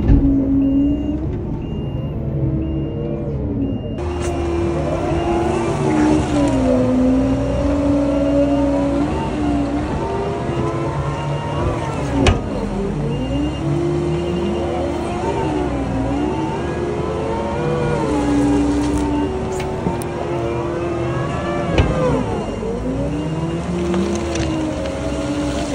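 A telehandler spreading muck drives and manoeuvres across a field, its diesel engine droning and revving with shifting pitch, joined by a steady high reversing beep, loud and continuous with no voices.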